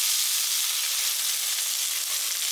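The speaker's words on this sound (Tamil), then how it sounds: "இப்போ நம்ம சாதத்தை அதில் கொட்டி கிளறிக்கலாம்." Cooked rice sizzles and hisses in a hot pan as it is stirred with a pepper and garlic masala. The frying sound is steady, close and loud, with no voices over it.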